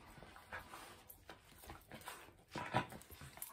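A Bedlington terrier whimpers and yips in excited welcome, a string of soft, close whines and squeaks with one louder cry near the end, over quiet room noise.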